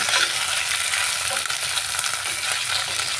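Turmeric-coated shing fish frying in a pan of hot oil, giving a loud, steady crackling sizzle heard up close for a few seconds with no talking over it.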